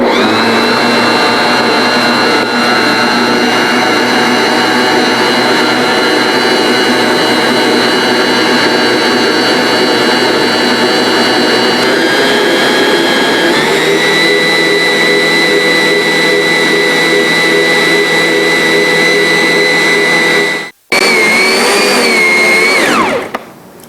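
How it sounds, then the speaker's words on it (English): A stand mixer kneads rosemary dill bread dough with a loud, steady motor whine that shifts pitch partway through, cuts out near the end, then briefly runs again and winds down. "let it continue to knead for 8 minutes until it's nice and"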